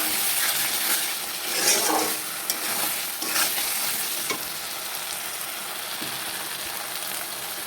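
Water is poured into a vegetarian paneer masala bubbling in a pan, a loud close sizzle and frying crackle with a few stirring clicks, steady throughout with no talking.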